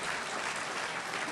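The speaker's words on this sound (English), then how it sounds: "My notes say that I should have some applause here." Steady, dense applause from a crowd of guests at a testimonial dinner, loud and even with no voices over it.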